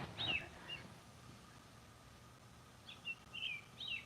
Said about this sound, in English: I hear a little bird. Is it a cardinal?